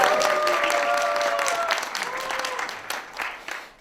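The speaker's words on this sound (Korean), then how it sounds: "그 아버지께 응원의 박수." An audience claps in support of a father at a church youth gathering, a burst of applause that fades unevenly toward the end, with a few voices and cheers mixed in early.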